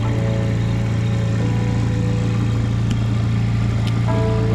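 An outboard motor runs hard at a steady idle, a loud, constant low drone close by with a small shift in pitch near the end and no voices.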